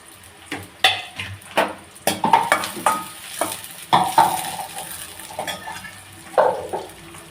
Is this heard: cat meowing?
no